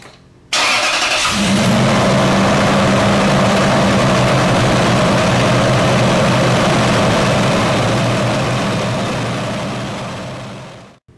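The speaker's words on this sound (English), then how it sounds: "Don't be alarmed if the engine runs rough after the battery has been disconnected for any length of time." A 2006 Toyota Sequoia or Tundra engine cranks and catches after its battery was disconnected, then idles loudly and roughly with a deep uneven rumble before cutting off at the end.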